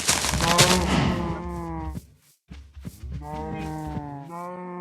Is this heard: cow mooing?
yes